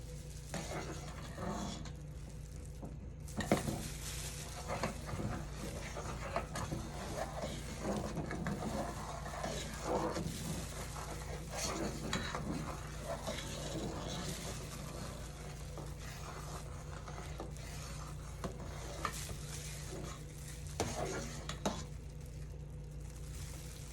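Sea moss gel is stirred in a pan on the stove, with a spoon scraping the bottom and a low bubbling simmer running steadily underneath, along with faint clinks and occasional brief speech.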